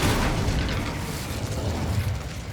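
Incendio fire spell cast in Hogwarts Legacy, a broad rumbling whoosh of flame heard up close and loud, sustained through the moment with a low booming body and no talk over it.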